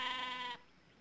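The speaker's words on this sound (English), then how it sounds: "They're sheep." A single sheep gives one short, clear bleat at close range that cuts off abruptly, followed by quiet background.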